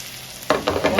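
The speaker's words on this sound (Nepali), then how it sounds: "लसुन राखेपछि यसलाई मजाले चलाउनुहोस्।" Chopped garlic frying in oil for chicken curry, a sudden sizzle starting halfway through followed by scraping stirs, close and loud.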